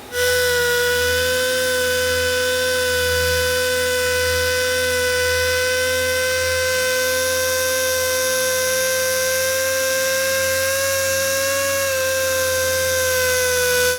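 A power polisher works the paint of a BMW 1M, a loud, steady whining hum with sustained tonal whine and a low rhythmic throb, running unbroken throughout.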